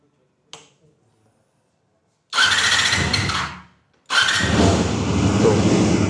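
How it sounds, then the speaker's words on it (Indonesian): A four-cylinder 250cc motorcycle engine cranks and catches, running loud and rough for about two seconds, cuts off, then starts again and keeps running steadily, preceded by a single sharp click. "Jadi mempunyai ciri khas suara yang 4 silinder."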